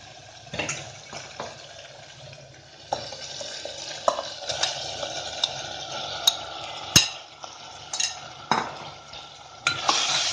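Chicken frying with mashed, softened onion in an opened pressure cooker, a soft steady sizzle broken by repeated clinks and scrapes of a ladle stirring against the metal.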